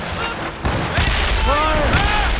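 Broadband cannon blasts from sailing warships in the Assassin's Creed Rogue naval battle, a volley of booming shots amid continuous battle din, with shouted voices over the gunfire.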